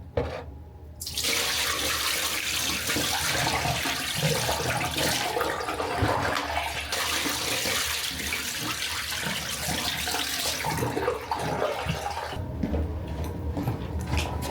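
Water runs steadily from a tap, a continuous broadband rush that fills the whole stretch, fairly close and loud, with no talking.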